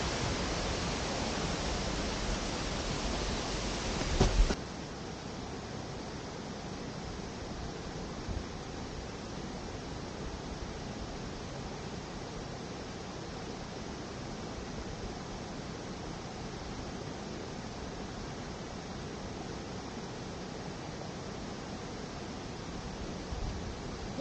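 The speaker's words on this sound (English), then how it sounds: "it's a bit too noisy, the sound of the water." A waterfall in Ennerdale gives a steady, even hiss of rushing water throughout. It is louder and brighter for the first few seconds, then softer and constant.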